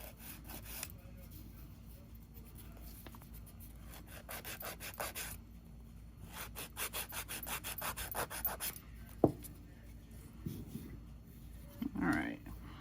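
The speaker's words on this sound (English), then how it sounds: "now when you're filing the tops of the nail smooth" Nail file rasping across fingernail tips to smooth them during a manicure, with repeated close, soft scratchy strokes in short bursts separated by pauses and a few small handling knocks.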